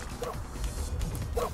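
A dog barking in the video game Tokyo Jungle: two short, muffled yips about a second apart, heard over a steady game soundtrack and ambient noise.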